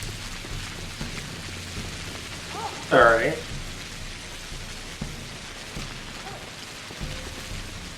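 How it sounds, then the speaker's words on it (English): Steady rain hiss from the weather effect in the video game Pathologic runs throughout, with a short louder burst midway and people talking over it. "How do you feel about the rain effect in this game"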